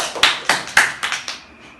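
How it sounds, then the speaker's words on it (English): A small class claps in a loose rhythm of about six distinct, sharp hand claps, close and bright, tapering off quickly with no talk. "Okay, give applause for us."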